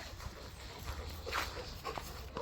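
Faint, soft whines and panting come from dogs playing at a dog breeder's, with a few brief whimpers rising over a quiet, noisy background.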